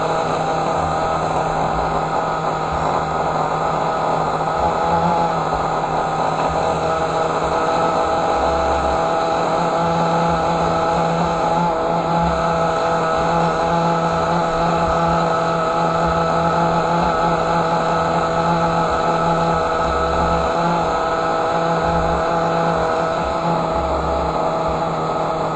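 A small nitro engine in a RatDaddy Hellbus tank idles steadily while its low-speed needle is tuned, giving a loud, continuous buzzing drone with a slight shift partway through and no voices.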